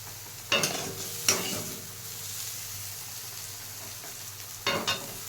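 Boiled dal is stirred in a pot, with three distinct scraping strokes of a spoon against the metal over a quiet, faint simmering background.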